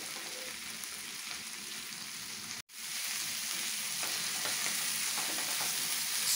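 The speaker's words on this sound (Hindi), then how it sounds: "जो पहले से मैरिनेट किया हुआ फिश स्टेल है, एक एक करके वो भी दे रही हूँ।" Marinated hilsa fish tails fry in a pan with a dense, steady sizzle, broken once by a split-second drop to silence before the crackling frying resumes.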